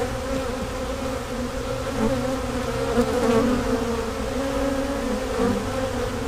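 Honey bees swarm around a hive rescued from a tree, filling the air with a dense, continuous close-up buzz that swells slightly and carries no talk.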